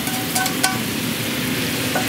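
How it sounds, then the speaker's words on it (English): Steady sizzling and frying as sauce meets chicken in a pan, with a few light clinks of stirring near the start. "We have the sizzling. So at this moment, I will let the sauce meet the chicken."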